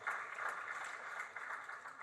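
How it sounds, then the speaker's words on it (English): A talk show audience applauds a speaker with steady, faint clapping that fills the short stretch without pause. "Let's clap for Gloria once again."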